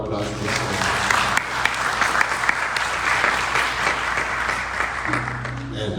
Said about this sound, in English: Give one round of applause.